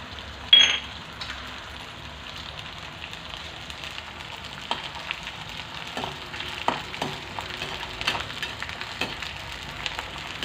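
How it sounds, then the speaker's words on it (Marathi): Gum resin frying in hot homemade ghee in a wok, a steady soft sizzle with scattered crackles and pops, a louder burst near the start, heard close up with no talking. "आता त्याच्यात आपण हा जो डिंक आहे तो तळून घ्यायचा आहे"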